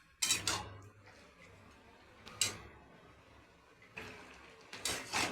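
A spoon stirs pea dal with pumpkin greens in a pot, giving a few separate scraping clinks against the pot's side with quiet pauses between them, close by and with no talk.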